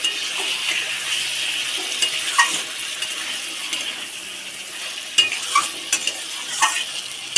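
Potato and banana curry being stir-fried in a pan after a splash of water, a steady broad sizzle with occasional scraping strokes of a spoon and small knocks against the pan.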